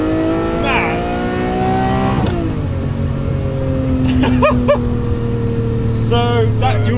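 Rear-mounted V12 of a Lamborghini revving, a loud sustained engine drone that swells and dips in pitch while people talk over it.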